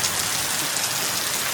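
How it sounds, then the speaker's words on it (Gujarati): Steady, dense rain pours down in Chalala, a continuous close hiss of drops hitting surfaces with no pauses and no voices. "હાલો આવી ગયો વરસાદ"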